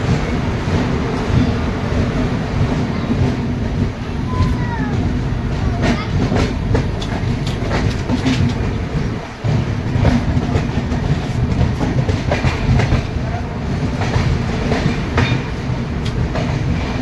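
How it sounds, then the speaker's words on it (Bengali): New Delhi–Malda Town Express pulling slowly out of Buxar station, heard from inside as a steady rumbling roll with clickety-clack over the rails, continuous and fairly loud. "ট্রেন ধীরে ধীরে বক্সা স্টেশন থেকেও বেরিয়ে যাচ্ছে।"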